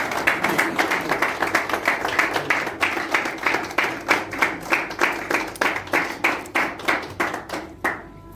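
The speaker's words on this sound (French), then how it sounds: "nous pouvons l'encourager par des acclamations" A crowd claps for a speaker at a prophetic gathering, starting as mixed applause and settling into loud, rhythmic unison clapping with a steady beat before it stops abruptly.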